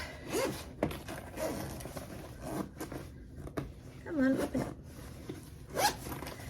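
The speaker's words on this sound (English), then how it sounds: "it's got a double zipper pull closure, and when you open it up," A double zipper on a bowler bag rasps open in several short pulls, close and fairly quiet, with a voice talking around it.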